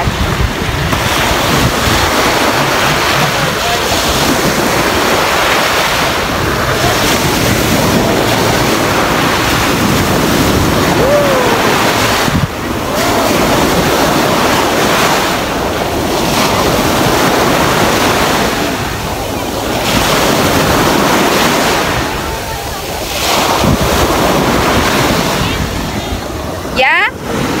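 Ocean waves at Jumeirah Beach in Dubai surge and wash in repeated swells, heavily buffeted by wind noise on the microphone. People talk in the background.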